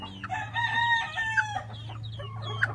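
NUDC Dome chicken pullets cluck and give short, high crowing-like calls close by, several birds overlapping over a steady low hum.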